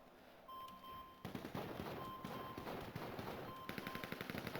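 Gunfire in the GTA video game: a sudden burst of rapid automatic shots after a quiet start, followed by repeated close, sharp volleys with brief pauses, joined by short electronic beep tones.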